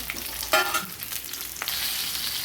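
Mustard seeds, asafoetida and green chillies hitting hot oil in a pan for a Maharashtrian thalipeeth, giving a close, steady crackling sizzle with a sharper burst partway through and no talking.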